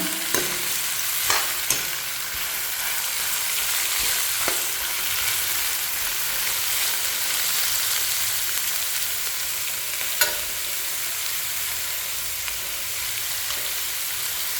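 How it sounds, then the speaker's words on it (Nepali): Oil sizzles steadily in a pan on the stove, a continuous loud hiss with occasional spoon clicks and stirring taps, with no voices, just before tomatoes and potatoes go in for a bitter gourd gravy. "फ्राई गर्छु। त्यसपछि मात्रै टमाटर आलु"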